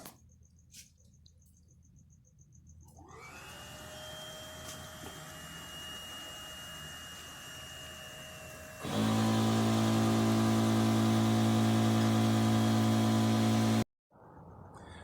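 A steady mechanical hum of an air pump inflating an inflatable boat keel to 4 PSI starts, then turns much louder and harsher partway through, running continuously before cutting off abruptly near the end.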